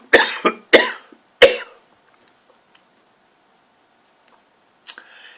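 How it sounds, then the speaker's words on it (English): A man with a bleeding ulcer coughs three times in quick succession, close and harsh, followed by a quiet pause and a faint short throat sound near the end. "Yes, you get a cough as well."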